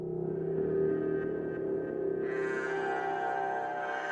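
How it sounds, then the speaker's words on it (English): A low, droning synth tone from a granular chrono pitch effect on a Tonverk, with a warbling, didgeridoo-like buzz, brightening and thickening partway through, steady and fairly quiet. "This is chrono pitch. It's the one making the didgeridoo sound."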